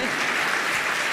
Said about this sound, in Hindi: आप भी ताली बजाइए।